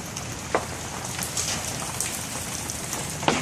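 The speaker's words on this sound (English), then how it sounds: "Yeah, there's hail everywhere." Large hailstones fall and strike surfaces outdoors, a dense steady patter with a few sharper close impacts standing out, no voices.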